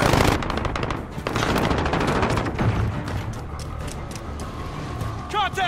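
Rapid machine gun fire in a Call of Duty: Modern Warfare multiplayer match, with dense bursts of close, loud shots rattling continuously, broken by short pauses, beneath in-game voices calling out.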